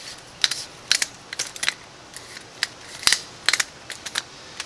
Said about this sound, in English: Simply fold those legs in.